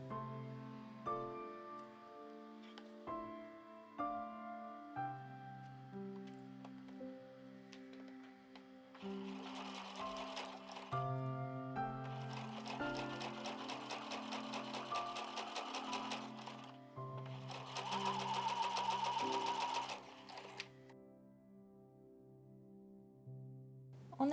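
A sewing machine stitches overlapping 7 mm seam allowances on a hexagon patchwork shoulder bag in three steady bursts of fast, even whirring, with soft tonal music in the background.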